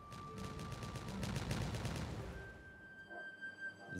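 A rapid string of blasting explosions in Timberborn, the detonations firing in quick succession, then giving way to quieter chimes and ambient game sounds.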